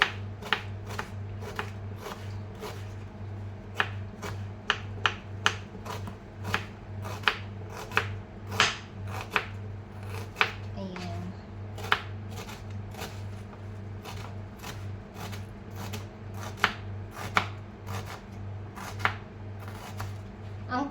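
Garlic is chopped and crushed on a board, a long series of sharp knife taps in an uneven rhythm over a steady low hum, close and moderately loud, with no talk.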